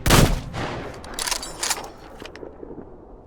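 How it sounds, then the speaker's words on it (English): Rifle gunshots in the video game Metro Exodus, a few loud reports with long reverberant tails rolling out across open desert, no talking. "The sound of the shot reverberating across the desert is sexy enough that I don't care if every"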